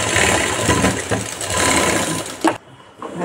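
A sewing machine stitching a fold on a garment sleeve runs in a fast, continuous mechanical whir up close, then stops abruptly near the end, leaving near silence.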